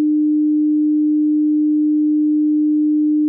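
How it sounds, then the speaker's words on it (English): A pure 302 Hz sine tone holds perfectly steady and unbroken, loud and alone, with no other sound around it. "now at the bottom we have our 302 Hz sound wave moving to the right"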